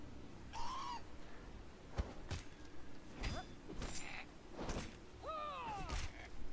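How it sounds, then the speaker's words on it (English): A bird in the video game Conan Exiles caws and squawks in loud, rising calls, with wing flaps and weapon impacts between them during combat. "he was flapping his wings and cawing at me"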